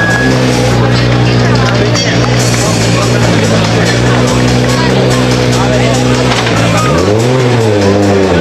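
A Ford Focus RS WRC 09 rally car at the Acropolis Rally, its engine droning loudly and continuously with a rising rev sweep near the end, under a commentator's amplified speech.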